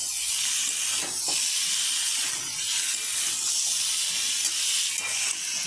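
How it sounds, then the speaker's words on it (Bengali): Fried cauliflower being stir-fried in a pan for a fish curry makes a continuous loud hiss and sizzle, with occasional soft scraping accents from the stirring. "এখানে আমি এখন ভাজা ফুলকপিগুলো দিয়ে দেবো, দিয়ে ভালো করে আরেকটু কষিয়ে নেব।"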